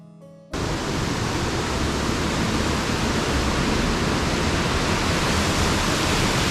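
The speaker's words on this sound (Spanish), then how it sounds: "Desde esta catarata el sendero ofrece fantásticas vistas del río, que cae en una piscina" A waterfall on the Ingleton waterfalls trail in England roars as a loud, steady, even rush of falling water after a brief quieter moment at the start, with no other sounds.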